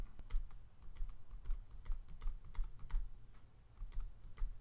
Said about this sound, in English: reduce my brush a bit by holding down the Shift key and clicking the left bracket